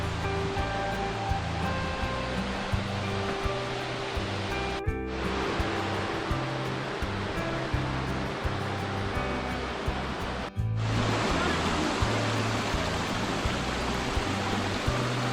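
The Cascade de l'Éventail waterfall in the Hérisson valley roars in a steady, dense wash of falling water heard from near its top in autumn, with two brief dips in the noise.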